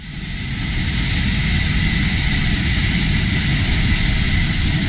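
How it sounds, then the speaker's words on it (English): A fighter jet engine roars loudly and continuously, a dense, steady rumble that swells in the first second and then holds at full strength with no talk. "We have a fighter jet plane."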